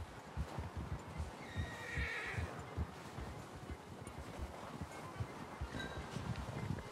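A horse in the Red Dead Redemption 2 video game whinnies clearly in a snowy outdoor setting, its neigh rising over a dense rhythm of hoofbeats and wind.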